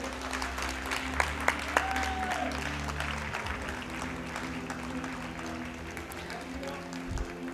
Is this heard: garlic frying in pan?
no